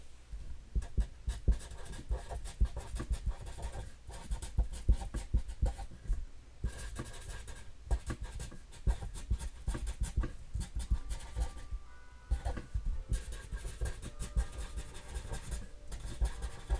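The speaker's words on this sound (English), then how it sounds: "Let me write that down." Hand writing notes, a steady run of close scratchy pen-on-paper strokes in quick irregular bursts, with a few short pauses between lines and no talk.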